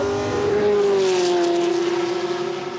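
A race car laps Silverstone circuit, its engine a loud, sustained tone that peaks as it passes close, then pitches down and fades slightly as it pulls away, with no voices.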